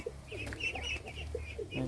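Chinese ducks call in short nasal bursts, a few close calls over steady low background noise, with no talking.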